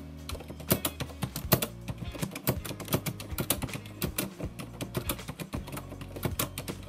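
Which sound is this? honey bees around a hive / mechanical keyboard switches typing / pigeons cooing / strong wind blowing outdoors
mechanical keyboard switches typing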